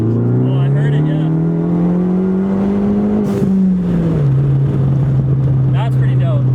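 A tuned Ford Focus ST engine with a stratified tune holds a loud, steady drone as the revs rise, dip and climb again, with a couple of brief sharp exhaust pops near the end.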